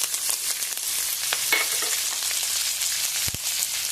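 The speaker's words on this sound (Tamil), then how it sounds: "கொஞ்சம் நல்லா பச்சை வாசனை போகிற அளவுக்கு வதக்கி விட்டுக்கலாம்." Chilli, ginger, tamarind and drumstick leaves sautéing in a pan, with a steady bright sizzle and occasional stirring scrapes and a soft knock near the end; no talking.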